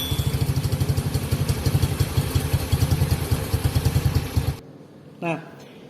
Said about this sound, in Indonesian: ada contoh video sepeda motor yang masih menggunakan konvensional atau menggunakan dinamo starter